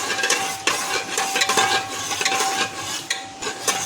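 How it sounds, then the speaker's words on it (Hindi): Fenugreek seeds crackle and pop in hot oil in a pan, a busy continuous sizzle with frequent sharp little snaps, close and fairly loud, with no voices. "देखिए चटक रही है मेथी, ये देखिए चटकने लगी"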